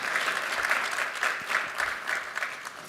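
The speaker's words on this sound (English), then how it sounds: "give a warm round of applause for the legacy that he has left us." An audience applauds at a theater tribute event, steady sustained clapping from a crowd filling the whole stretch, with a few louder swells and no talking.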